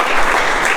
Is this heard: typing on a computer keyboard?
no